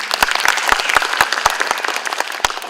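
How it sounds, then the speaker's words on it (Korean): Conference audience applause at an IT management forum session, a steady patter of many hands clapping with sharp individual claps standing out, no talk over it. "박수 한번 주시죠."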